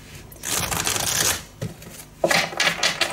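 Oracle cards are shuffled by hand for a card reading, with close, crisp riffling flutters in two bursts split by a short pause; no one speaks.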